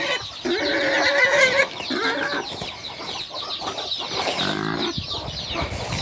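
Farm chickens cluck and squawk in a busy, overlapping chorus close by, loud and continuous throughout with no talking.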